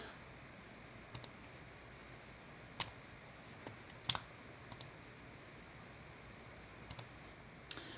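Sharp mouse clicks while exporting a drawing file, sparse and isolated: a quick double click, then single and paired clicks scattered across several seconds over quiet background hiss.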